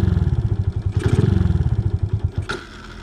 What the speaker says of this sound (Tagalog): May kakaibang tunog na sa makina mga tol.